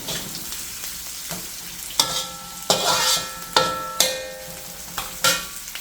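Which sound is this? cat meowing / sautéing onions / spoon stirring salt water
sautéing onions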